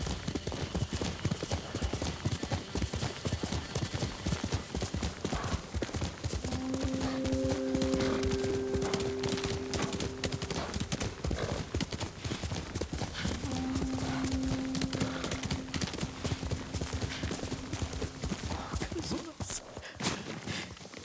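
Horse hooves pound in a rapid, steady galloping rhythm in the game Ghost of Tsushima, loud and continuous, with faint tonal music drifting in and out beneath.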